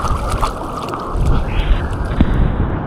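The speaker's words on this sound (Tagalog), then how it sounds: "May mga malalakas na alon siya." Strong sea waves rush and churn close by, a loud, rough wash of water and wind buffeting the microphone.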